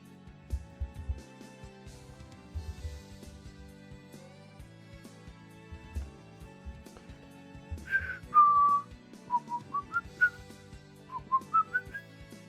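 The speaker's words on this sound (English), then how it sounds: "sorry for the whistling" A person whistles a short melody indoors, a run of bright separate notes that rise and dip, with a few soft knocks and handling sounds around it.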